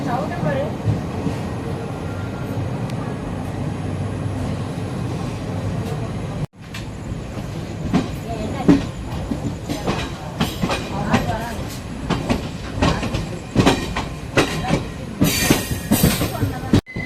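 Chemmozhi Express passenger train on the Coimbatore to Mannargudi run, boarding at a station: a steady, close rumble of carriages with faint rhythmic wheel clatter, under continuous talk from people nearby.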